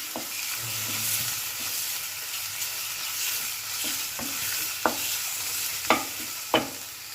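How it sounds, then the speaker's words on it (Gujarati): A spoon stirs gravy for a bottle gourd kofta curry in a pan of hot oil. A soft, steady sizzle runs underneath, with a few sharp scrapes and taps against the pan near the end. "તેલ છૂટું ન પડે ત્યાં સુધી આપણે ગ્રેવીને હલાવવાની"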